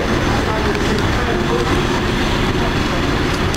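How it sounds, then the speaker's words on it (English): A train runs through a station at platform 2 without stopping, a loud, steady broadband roar filling the whole stretch close by. "The train now approaches platform 2 does not stop here."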